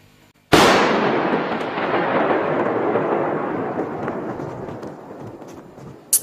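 A sudden loud blast from an explosion in the game Free Fire bursts out, then rumbles and crackles as it slowly decays over several seconds, with a faint pop at the very end.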